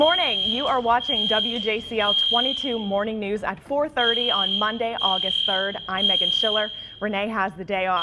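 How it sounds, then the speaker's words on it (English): Fire alarm blaring during a fire drill in a TV news studio, a continuous high electronic tone sounding steadily beneath a news anchor speaking over it. "As you can hear, we have a fire drill going on right now."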